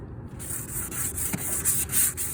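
Light hand sanding of rusty vehicle trim with sandpaper, a steady close scratchy rubbing in repeated strokes, rhythmic and continuous with no voices.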